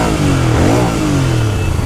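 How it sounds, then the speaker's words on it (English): A BS6 Royal Enfield Interceptor 650 motorcycle revs up close, its loud exhaust note rising and falling in a quick throttle blip over a steady engine rumble, with no talk. "Exhaust note."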